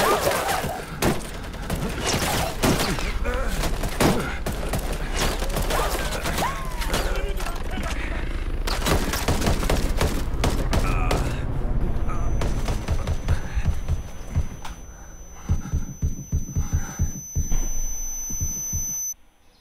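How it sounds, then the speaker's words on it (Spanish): Gunfire from a weapon in the Ghost Recon video game, a dense run of sharp shots and bursts through most of the span, then spaced single shots near the end, with players talking over it. "Qué cool como suena esa arma, ¿no?"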